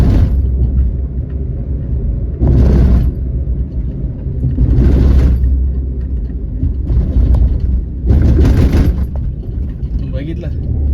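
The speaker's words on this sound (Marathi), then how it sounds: "आता या लोकांनी स्पीड ब्रेकर लावून टाकलेत, ते रमलर लावलेत दुनियाभरचे." A car drives fast along a road fitted with rumble strips and speed breakers. A steady engine and tyre rumble is broken by four sharp, loud bursts of juddering as the wheels hit the strips.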